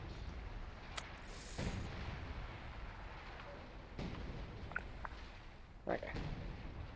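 A Sexton self-propelled gun barrage in a WWII strategy game: scattered booming impacts at intervals, one near the start and stronger hits around four and six seconds, over low background rumble.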